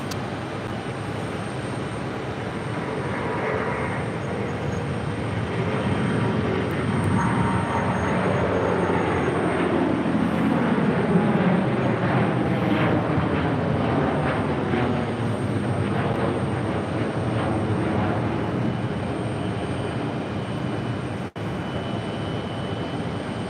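Airplane taxiing at JFK airport, a continuous loud jet engine roar with a slowly shifting whine, steady throughout with no voices.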